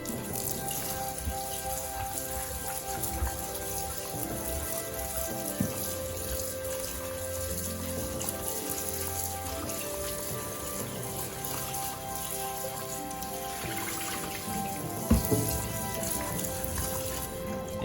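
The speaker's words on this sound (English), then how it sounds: "Rinse them a couple of times until you see the water is clear." Cold tap water runs steadily while raw potatoes are rinsed in a sink, a continuous close splashing wash with no voices.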